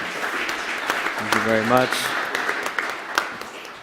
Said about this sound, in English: I'd like to ask you all to join me in a round of applause for our excellent panel today.